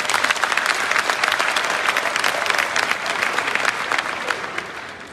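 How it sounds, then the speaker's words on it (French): A crowd at a political speech claps steadily, dense applause that fills the space and holds strong throughout before easing slightly at the end, with no voices on top. "Applaudissons-les."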